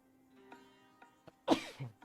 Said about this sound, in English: I need to sneeze here.